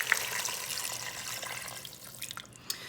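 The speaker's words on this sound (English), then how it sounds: "we're gonna cover it with some water" A quart of water pours steadily from close by into a pot of stock ingredients, a soft continuous splashing stream that thins toward the end with a few drips.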